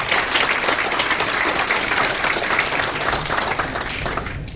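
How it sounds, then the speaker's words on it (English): Loud, sustained audience applause fills a room at a farewell dinner, dense clapping that continues evenly throughout before easing slightly at the end. "I'd really like to give them a round of applause"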